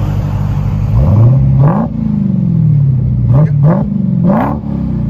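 A 2018 Dodge Demon with an 840 hp supercharged 6.2L Hemi V8 and dual exhaust, still on its mufflers, revs loudly and close by, with several throttle blips rising and falling over a steady idle rumble.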